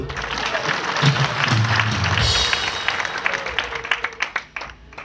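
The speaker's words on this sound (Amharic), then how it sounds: "አጨብጭቡ ለኔ" A church congregation applauds during a sermon: dense, steady clapping from a crowd fills most of the stretch, then thins into a few separate, louder claps near the end.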